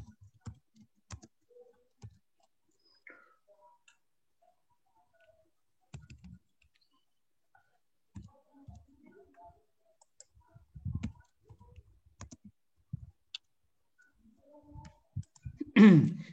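Sparse clicks and taps on a computer keyboard while typing into an Excel spreadsheet, quiet and close, in scattered short bursts separated by pauses.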